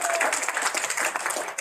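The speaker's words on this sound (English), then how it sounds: "give it a round of applause" An audience at a proclamation signing event gives a short round of applause, brisk clapping from a modest crowd lasting under two seconds with a few voices mixed in.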